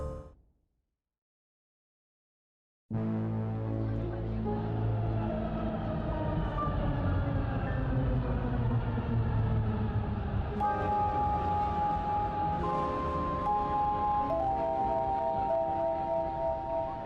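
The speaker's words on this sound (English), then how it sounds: "Into the train we go." In the Lacuna video game, a train ride starts abruptly after silence, with a rumbling low drone overlaid by sliding, whining metallic tones that shift in pitch throughout.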